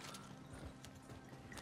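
Horse hooves clip-clopping in the Red Dead Redemption 2 online video game, a quiet rhythmic trot of hoofbeats heard alone at low level.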